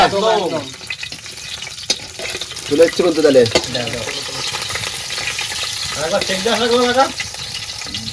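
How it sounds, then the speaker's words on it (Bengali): Fish fries in a pan outdoors, a constant hissing sizzle running under close conversation. "মাছ কিন্তু ভাজা হয়ে গেছে দেখো পুরো লাল লাল করে"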